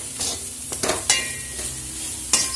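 Banana stem poriyal with grated coconut stirred in a pan, soft scraping and spoon clinks over a faint background sizzle, a few brief sharper scrapes standing out.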